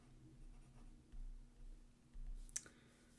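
A Franklin-Christoph Model 02 fountain pen with a fine stub italic nib scratches softly across paper in close, faint strokes, with a short tap near the end.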